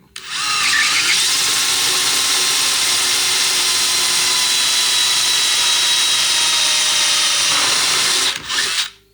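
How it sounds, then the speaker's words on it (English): A power drill whines loudly and steadily for several seconds as it bores through wood during a motorhome upgrade, then winds down and stops. "So I need you to hold that and this wood while I drill"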